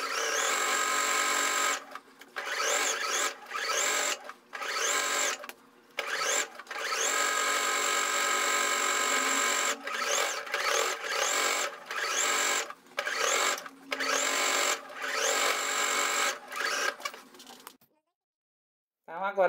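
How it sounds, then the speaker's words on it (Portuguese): A sewing machine stitches a straight seam around fabric edges with a presser foot, a steady close whirring hum in long runs broken by short stops, ending in silence. "E agora é só passar uma costura reta com um pezinho de máquina, em volta todo, para rebater aí."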